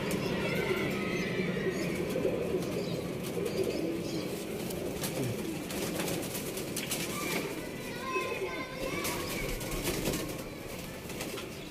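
Pigeons in a loft coo softly amid wing flaps and rustling, with people talking nearby throughout and scattered clatter in the background.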